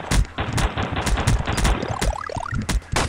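AK rifle fire in the 2D shooter game Boring Man, rapid loud bursts of shots in quick rhythm with whistling ricochet-like tones between them.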